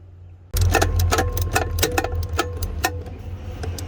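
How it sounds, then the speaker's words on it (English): Power driver removing the four seat mounting bolts on a Freightliner Cascadia semi truck seat, a close, steady rattling whir with fast ratcheting ticks that starts abruptly and runs continuously. "So now I'm gonna go ahead and remove these 4 bolts."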